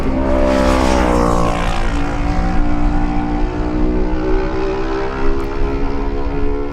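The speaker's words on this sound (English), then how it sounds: "And he's followed by the Kawasaki of Jack Fowler, number 55." Lightweight racing motorcycles, a Suzuki and a Kawasaki, scream past at a road race, loud high-revving engines sweeping by close and then fading as one follows the other.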